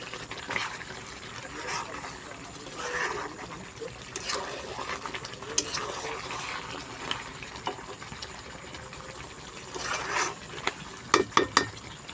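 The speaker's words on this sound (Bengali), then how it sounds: "আবার ভালো করে নেড়ে দিচ্ছি" A spoon stirs homemade biryani in a pot, with scraping and clinking strokes coming in irregular bursts over a quiet background and a few sharper metallic taps near the end.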